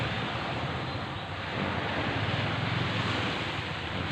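Sea waves wash steadily at Bayon Beach, a dense, continuous roar of surf with wind buffeting the microphone, loud and close, with no voices.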